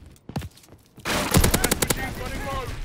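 A revolving shotgun firing slugs in a video game, heard as a loud blast followed by a quick string of sharp shots over a second, with game noise and excited talk from players.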